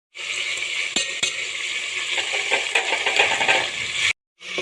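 Garlic ginger paste sizzles and fries in a chicken karahi, with a steady bright crackle, a few sharp spoon clinks against the pan near the start, and a short pause before the frying resumes.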